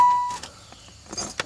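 1996 Buick Roadmaster power window motor, a brief faint whir after a short electronic tone, quiet and close with small clicks at the end.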